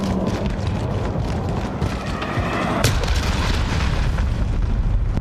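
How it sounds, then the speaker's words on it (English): An enemy cruise missile strike in the shooter game Call of Duty Modern Warfare: continuous heavy rumbling blast noise with a sharp crack partway through, loud and dense for several seconds. "Enemy cruise missile incoming."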